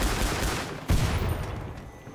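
Gunfire in a Killing Floor-style video game battle against Hans Volter: a dense, muffled rattle of overlapping shots, with a sharper burst near the middle, fading slightly toward the end.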